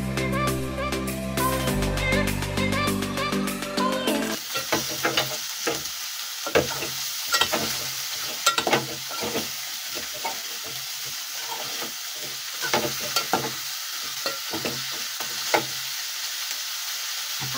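Onions and capsicum frying in a hot pan, a steady loud sizzle with repeated scraping stirs and clacks of a utensil, preceded by a few seconds of music.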